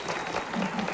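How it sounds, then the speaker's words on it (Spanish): A television comedy studio audience applauds a guest, a brief dense burst of many hands clapping at moderate level, with voices faintly mixed in. "Un aplauso para él, por favor."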